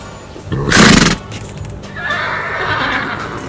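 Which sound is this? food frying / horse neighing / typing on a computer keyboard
horse neighing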